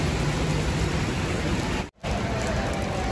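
Rain pours at a bus terminal in Makassar as a dense, loud, steady hiss of falling water, broken once by a brief dropout, with no voices.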